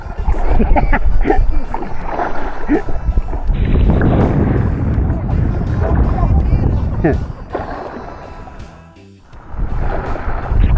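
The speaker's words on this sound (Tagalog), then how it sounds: "Lakas ng hangin." Strong wind roars and buffets the microphone almost continuously, with a rumbling low end and water-like wash, briefly easing near the end before gusting back.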